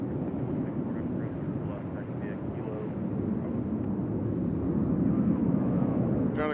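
Jet airliner at Nashville International Airport, a steady broadband engine roar holding throughout and swelling slightly toward the end, with faint voices underneath.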